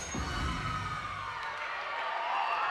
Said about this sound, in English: Crowd loving that one.